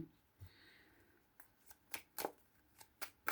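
A tarot deck shuffled by hand, giving a few quick separate riffling bursts that build toward the end, close and fairly quiet.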